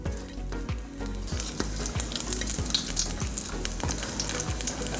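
Cumin seeds and whole spices sizzle and crackle in hot oil for a goat liver curry, a loud, continuous frying hiss with repeated scraping stirs of the pan, close up.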